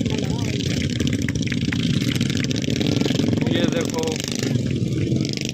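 Motorcycles circling at an Indian Army stunt show, engines droning and revving in a continuous mid-range rumble with a busy crowd and loud nearby chatter layered over the top throughout.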